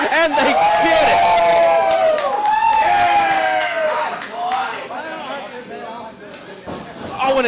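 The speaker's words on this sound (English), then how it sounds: "The sadistic crowd wanting another one, and they get it." A crowd at a ProSouth Wrestling show cheers and roars, with scattered sharp claps and smacks, under loud, continuous ringside commentary.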